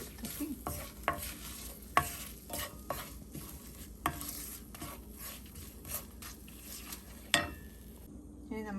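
Spices and turmeric powder stirred in hot oil for a Kerala raw mango pickle, with a steady soft sizzle and a spoon scraping and clinking against the pan in irregular strokes, close and fairly quiet.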